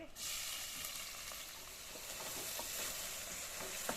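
Loud, steady sizzling of onions frying in hot oil, close up, with occasional stirring scrapes and no talking.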